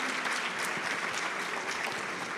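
A congregation at a Catholic national congress catechesis session applauds in a steady, dense burst of clapping that holds at an even level throughout.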